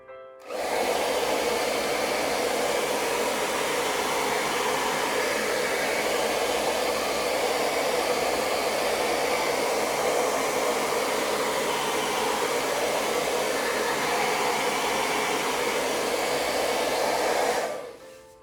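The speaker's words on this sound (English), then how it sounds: "We're going to take the hairdryer and dry this up." A hair dryer drying a watercolor painting blows with a steady, loud broadband whoosh that runs nearly continuously for about seventeen seconds, then cuts off.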